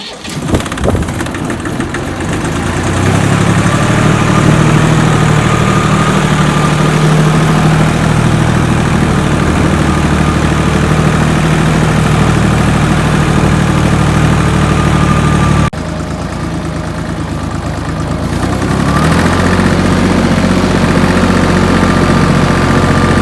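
A small tractor engine idling on a village farm while hay and straw are raked, a loud, close, steady low rumble that starts up, holds, dips briefly near the end and resumes, with no talk over it.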